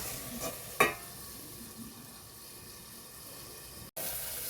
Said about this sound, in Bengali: আলুটাকে খুব ভালো মতো করে ভেজে নেব।